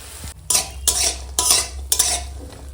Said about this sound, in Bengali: এখন একটু বড়ি ভেজে নেবো